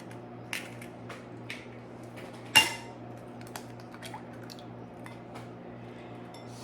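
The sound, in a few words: cracking eggs into a bowl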